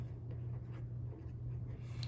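Paper Mate Flare felt tip pen writing on paper, faint soft scratchy strokes in quick irregular bursts over a low steady hum.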